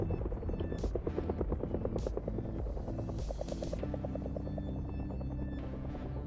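Helicopter rotor in the DCS flight simulator, a rapid rhythmic blade chop over a low engine drone and whining hum, loud and close throughout with no talking.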